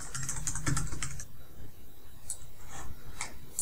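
Quick bursts of keystrokes on a computer keyboard while a password is entered, a dense flurry of clicks at first, then a few sparser taps after a short pause, close and alone.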